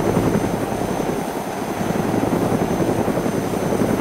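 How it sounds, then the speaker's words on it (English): Helicopter in the video game DayZ: a loud, steady rotor and engine drone that holds evenly throughout with no voices. "Yeah, Bobo, you stay in the heli"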